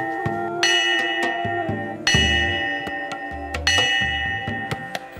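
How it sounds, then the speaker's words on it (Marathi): A village temple bell is struck in a distinctive pattern, with several clanging strokes at irregular intervals. Each ring leaves a shimmering tone that decays and overlaps the next. The bell is close and clear, with no talking. "गावातला एक जण गावातल्या देवळात येऊन एका विशिष्ट पद्धतीने घंटा वाजवतो"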